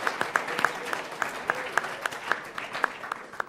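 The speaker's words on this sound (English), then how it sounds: "let's give a round of applause for all the students that are here as well" An audience at a Pro Football Hall of Fame event honoring Marv Levy claps for the students, a sparse, moderately loud patter of individual claps that thins out over a few seconds.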